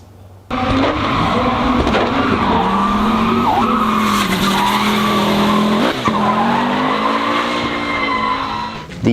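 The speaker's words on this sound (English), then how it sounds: "They're trying to drift, the four-wheel drive drift, around the track." A four-wheel drive Audi drifts around the Gatebil race track in Norway, its engine roaring loudly and continuously while the tires squeal steadily, with brief dips in pitch as the car shifts through the slide.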